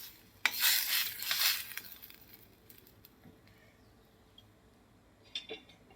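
A spoon stirs a chili mixture with salt in a pot, scraping and clattering loudly for about a second, then fading to faint occasional taps and a final pair of metal knocks.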